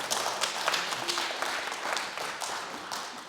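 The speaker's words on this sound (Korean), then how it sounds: "박수 한번 우리 하겠습니다." A church congregation applauds at the close of a Sunday worship service, a dense, steady wash of many hands clapping at once that fills the whole clip without letting up.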